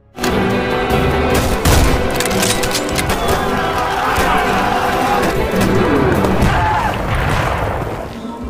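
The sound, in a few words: gunfire in a World War I battle scene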